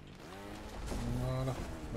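A motorcycle engine in the game Trials Rising eases off the throttle, its buzzing drone dropping in pitch and sliding lower as the revs fall, heard close and continuous.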